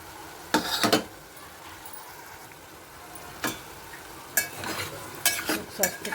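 Tomatoes go into onions frying in a pan. A low, soft sizzle runs underneath while a spoon scrapes and clinks against the pan in several sharp bursts, close and fairly loud, with no talking.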